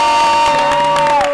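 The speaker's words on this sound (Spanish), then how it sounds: "Un aplauso." Brief burst of crowd cheering and whooping for Puerto Rico's governor, sustained raised voices with light clapping underneath, loud and close for just over a second.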